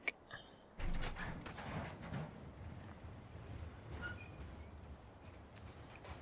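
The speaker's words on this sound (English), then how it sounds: "We'll send the train away." A train in Farming Simulator 2015 starts to move off, a heavy rumble rising abruptly after a brief clink and continuing as a steady rolling drone with faint metallic squeals and clatter.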